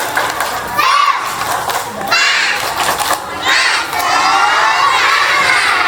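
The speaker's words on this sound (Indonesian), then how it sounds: "kita mau dengar tepuk semangatnya nih ya" Preschool children on an outbound field trip shout a spirit cheer together, loud bursts of many small voices in rhythmic chanting phrases, crowd-like and close.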